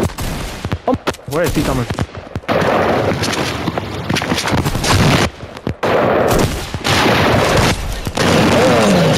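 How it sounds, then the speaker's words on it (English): Loud shotgun blasts and rapid gunfire erupt in Fortnite, several sharp bursts packed close together, while a player speaks briefly over the action. "The heavy shotgun."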